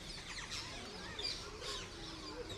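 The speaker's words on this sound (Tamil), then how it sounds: "They are rose-wing parakeets." Rose-winged parakeets call with thin, scratchy chirps that come in loose bursts over a steady outdoor background hum, faint and at some distance, with no talk.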